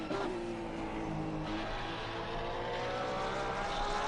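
A race car engine in Assetto Corsa Competizione at Indianapolis runs at full throttle, a loud, steady, high-revving drone whose pitch climbs smoothly as it accelerates.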